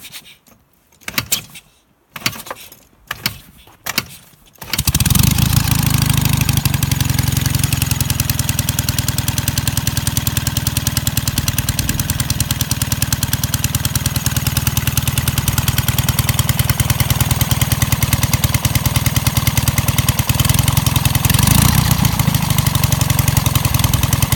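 Old engine cranking in several short bursts for a few seconds, then catching and settling into a loud, steady idle that runs evenly for the rest of the stretch.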